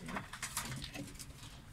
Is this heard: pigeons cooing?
yes